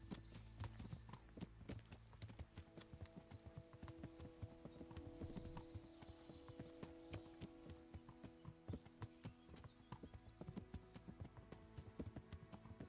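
Horse hooves clip-clop steadily in Kingdom Come Deliverance, quiet and continuous over a dense bed of game sounds and music, with no voices.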